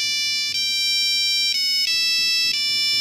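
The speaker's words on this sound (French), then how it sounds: "on pouvait créer nos propres sonneries polyphoniques." A polyphonic mobile phone ringtone plays a bright, steady synthesized melody of sustained notes that change pitch about once a second, loud and close with no voices.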